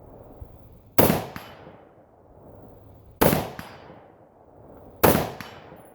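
Three sharp single shots at a campsite rifle range, spaced about two seconds apart, each with a ringing, metallic decaying tail against a quiet outdoor background.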